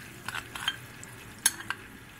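A spoon stirs flour into melted butter in a pan, making a few quiet scrapes and light metallic clinks over a faint background hiss, with no voices.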